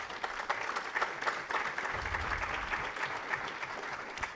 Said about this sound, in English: Let's just give a round of applause.